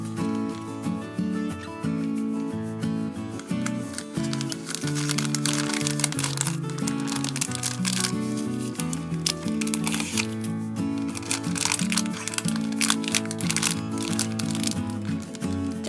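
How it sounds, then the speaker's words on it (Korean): Crinkling plastic wrap handled up close as homemade nut-filled chocolates, cut into large pieces, are packaged, with repeated crackling bursts running under steady background music. "이제 포장을 해주면 완성입니다."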